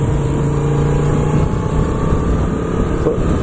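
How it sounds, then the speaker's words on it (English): A Moto Guzzi V7 II motorcycle slows with the throttle closed, its engine braking with a steady, loud, low drone and faint whine under heavy wind rush, with no voices. "There's a quite heavy sort of engine braking about it"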